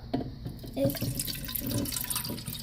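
Water pours and trickles from a dispenser in short splashing bursts, close by and moderately loud.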